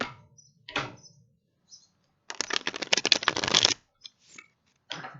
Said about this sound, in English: So let me try to ruffle shuffle here.